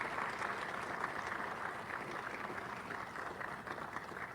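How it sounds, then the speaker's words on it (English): An audience at a chamber of commerce launch applauds a High Commissioner, a dense, steady round of clapping heard from a distance for several seconds. "I ask you all to give High Commissioner Lillian Chatterjee a resounding round of applause."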